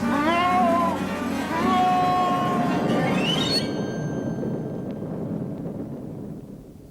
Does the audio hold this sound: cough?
no